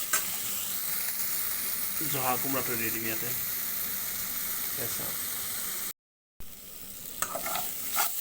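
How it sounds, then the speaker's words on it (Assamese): Dried goroi fish sizzles and fries in a pan, stirred with scraping spatula strokes. The sizzle runs steadily throughout, broken by one short silent gap, and a person speaks briefly over it. "মাছখিনি দি ৩-৪ মিনিট মানে ভাজি ল'ম।"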